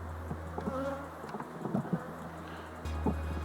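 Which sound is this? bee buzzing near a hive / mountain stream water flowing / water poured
bee buzzing near a hive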